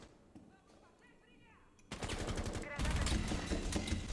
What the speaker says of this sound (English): You can hear the smokes and Candela start to go off.